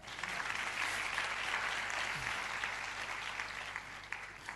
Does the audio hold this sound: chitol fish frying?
no